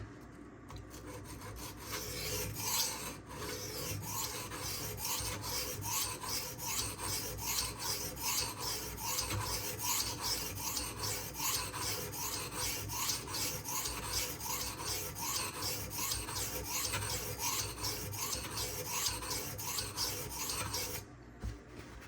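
A Benchmade Anthem knife edge is drawn across a sharpening stone in steady, even rasping strokes that continue for about twenty seconds at close range, with no talking.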